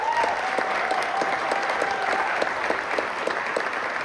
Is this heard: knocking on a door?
no